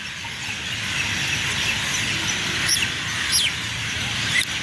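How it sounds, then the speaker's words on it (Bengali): Several bird calls ring out in a city park in Dhaka, a few distinct chirps and sweeping whistles, over a dense bed of distant chatter and background hum. "এত সুন্দর জায়গা বা এত পাখিদের ডাক অন্য কোথাও পাবেন না।"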